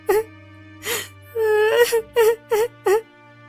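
A woman in an animated story wails and sobs loudly, with drawn-out moaning cries broken by short gasping sobs in a close, clear series against a faint low hum.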